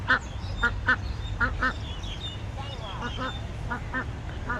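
Several ducks quack in short bursts, some in quick pairs, at moderate distance over a low outdoor rumble.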